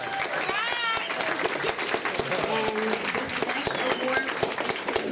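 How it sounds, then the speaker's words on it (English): Audience applause for an award winner at a community ceremony, clapping from a crowd mixed with cheering voices and people talking over it, steady for several seconds. "Can we have a round of applause for her?"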